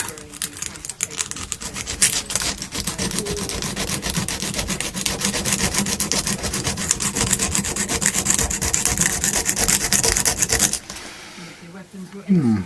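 Sandpaper rubs back and forth on a fret during a refret of an Electra guitar, a fast, steady rasping scrape that stops briefly near the end.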